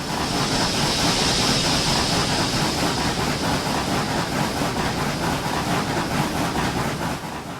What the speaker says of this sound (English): the 1218 accelerates the 21-car train through the small town of Bonsack, Virginia.